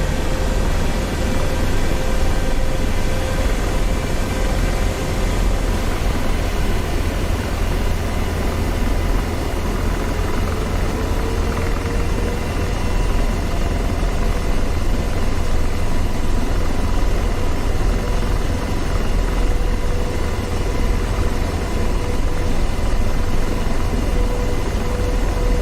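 An AH-64D Apache helicopter in DCS World spools up its engines, producing a constant loud broadband roar and whine with a faint rising tone, steady throughout with no talk.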